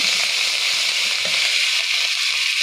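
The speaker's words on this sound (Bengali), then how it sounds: "এখানে মশলা দিয়ে দিলাম, মশলাটাকে একটু কষে নেব।" Spices sauté with onions in a hot pan, an even, loud, continuous sizzle and crackle up close, with faint stirring underneath and no voices.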